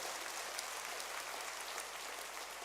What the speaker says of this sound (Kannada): ಈ ಮೇಲಿನ ನಿರ್ಣಯವನ್ನು ನೀವೆಲ್ಲ ಗಟ್ಟಿ ಚಪ್ಪಾಳೆಯ ಮೂಲಕ ಅಂಗೀಕರಿಸಬೇಕೆಂದು